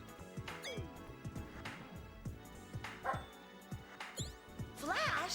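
A dog barks and yips in the Magic Knight Rayearth video game, several short rapid barks repeated over a few seconds, with whimpering chirps and some game sound layered in.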